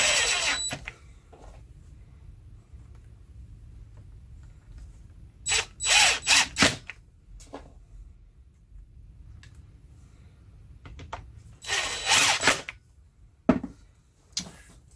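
A screwdriver drives three screws back into a DeWalt sander during a switch replacement, heard as two clusters of close ratcheting clicks separated by quiet stretches, with no talking.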